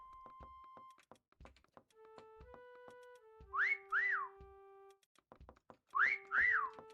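Whistles from players in Disney Dreamlight Valley: paired rising-and-falling whistle calls repeated twice, set among soft tonal chimes and light thumps, with no talking.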